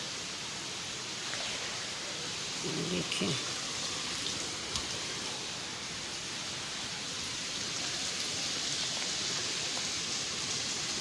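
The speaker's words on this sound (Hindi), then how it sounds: "बारिश तो रुक ही नहीं रही, इतनी तेज बारिश है।" Steady, dense monsoon-style heavy rain hisses throughout over a market, a broad wash of noise with a faint voice briefly audible underneath.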